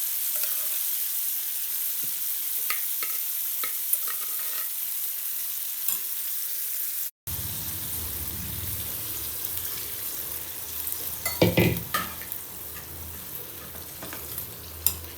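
Kalavai greens tumble into a pan of sautéed onions and fry with a constant sizzle, while a spoon scrapes and stirs in bursts that grow busier toward the end, with no talk.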